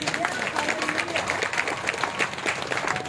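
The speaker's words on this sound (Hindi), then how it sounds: "यस, जोर से ताली होनी चाहिए।" Applause rises from a congregation at a Christian prayer and healing meeting: dense, continuous clapping with a crowd murmur, steady and fairly close throughout, with voices mixed in.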